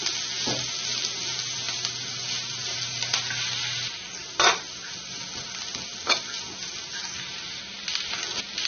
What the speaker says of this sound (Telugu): ఈ కారం, ఉప్పు, వెల్లుల్లిని ఆయిల్లో ఫ్రై చేయాలి.